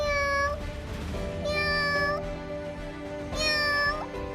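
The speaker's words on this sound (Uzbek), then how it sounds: "Chindan ham mushukchamizning ovozi." A kitten meows three times in drawn-out, wavering cries, close and clear, with a steady low hum underneath.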